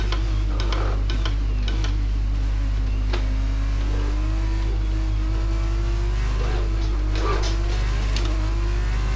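An F2 car in F1 22 runs a long straight at Abu Dhabi, its engine a steady, close drone whose pitch climbs gradually through the gears, with light ticking clicks scattered over it.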